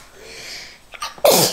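A single sharp sneeze bursts out near the end, close and loud, after a few quieter breaths and small noises at a table where twins are trying scallops.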